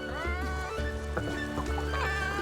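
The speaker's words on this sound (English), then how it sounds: "where the hell is that clucking coming from?" Chicken-like clucking in the video game Infinity Nikki, a steady run of nasal, bleating calls over background game music, moderately close.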